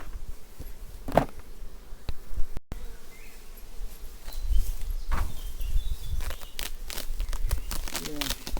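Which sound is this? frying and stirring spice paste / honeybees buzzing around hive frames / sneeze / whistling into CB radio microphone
honeybees buzzing around hive frames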